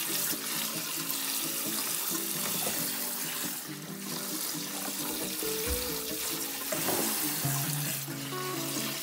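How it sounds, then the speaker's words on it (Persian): Cold tap water runs and splashes over cooked spaghetti in a kitchen sink while the pasta is lifted by hand and dropped back, a continuous close rushing flow with shifting splashes. "به صورتی که با دستمون ماکارونی رو می‌بریم بالا و به طرف پایین ولشون می‌کنیم و حسابی باید با آب سرد"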